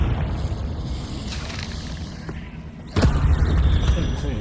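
A Confringo fire spell explodes in the Hogwarts Legacy video game, a sudden loud boom near the end that follows a low rumbling game ambience.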